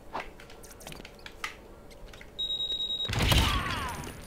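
A bomb explodes in the Lego Batman video game with a loud, full-bodied blast that starts sharply and rumbles on for about a second. Beforehand, scattered faint game clicks and a steady electronic beeping tone play.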